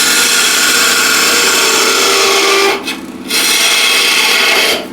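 A 12mm wide skew chisel cuts into spinning timber on a wood lathe, a loud, close, continuous abrasive shearing hiss that briefly drops away as the tool lifts, then resumes before fading.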